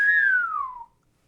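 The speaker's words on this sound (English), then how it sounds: "I'm actually in character where I just whistle like" A person whistles a single clear, close note that slides steadily downward for nearly a second, then falls silent.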